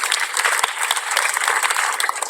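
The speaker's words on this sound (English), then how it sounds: "Let us also give them a big round of applause." Audience applause at a youth agenda forum in the Philippines, a dense, steady clapping from a crowd lasting the whole stretch, fairly loud and even, with no talk over it.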